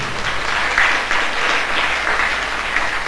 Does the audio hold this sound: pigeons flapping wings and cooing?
no